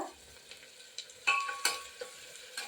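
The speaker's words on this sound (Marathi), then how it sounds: "गॅस मीडियम फ्लेमवरती ठेवून आपल्याला कांदा छान असा भाजून घ्यायचा आहे ब्राऊन होईपर्यंत" Onions browning in a pan over a medium gas flame for a spicy Maharashtrian ghevda bean curry give a faint, steady sizzle, with a few louder scrapes and clinks of stirring near the middle and end.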